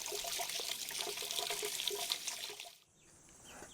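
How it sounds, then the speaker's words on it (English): Running water splashes over freshly dug echinacea roots being rinsed, a close irregular spattering that cuts out abruptly near the end, leaving a faint high hiss. "So I'm getting an initial rinse on these roots"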